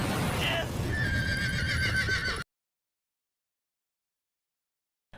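A horse whinnies loudly in a film scene with a rider, the neigh rising over hoof clatter and busy background sound before cutting abruptly to silence.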